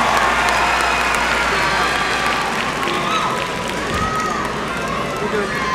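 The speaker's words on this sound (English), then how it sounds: "And let's give all of our honor graduates a round of applause" Graduates at the West Florence High School 2019 graduation receive a dense, steady roar of applause and crowd noise from a large audience, sustained throughout at high level.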